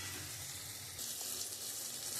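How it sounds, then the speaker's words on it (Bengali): Masala with mustard paste and three green chillies fries in a pan with a soft, continuous sizzle that brightens and grows slightly louder partway through. "এবার মশলাটা আমি সুন্দর করে কষিয়ে নেব"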